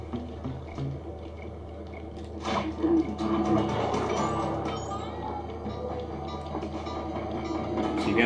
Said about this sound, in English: So you got these 3 trains that go around the map.